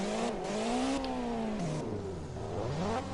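Car engine in CarX Drift Racing revving and whining through a drift, pitch rising and falling in sweeping curves with steady tyre roar underneath, loud and continuous.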